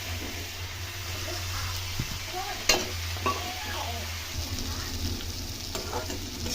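Mustard greens and green chili fry in a pan with a constant close sizzle over a low hum, while a few spoon knocks and scraping strokes cut through.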